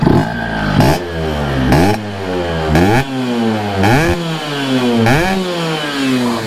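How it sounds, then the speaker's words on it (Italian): A warm Vespa 50 Special scooter engine, modified to 144cc, revs hard and repeatedly, climbing in pitch with each throttle blip and dropping between, loud and close. "Adesso che il motore è caldo voglio farvelo sentire bene."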